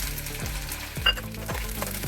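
Chopped onion and green peas frying in a pan for a poha breakfast, a continuous close sizzle punctuated by several rhythmic scraping strokes of a spoon stirring, no voices.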